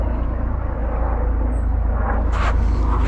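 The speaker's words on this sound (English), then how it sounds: "Look at that helicopter." A helicopter flying overhead makes a steady, heavy low rumble that stays constant throughout, with no talking.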